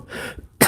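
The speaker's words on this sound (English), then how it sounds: "Sorry, I'm coughing." A single sharp cough from a sick person, close and fairly loud, bursting out after a brief stretch of soft room noise.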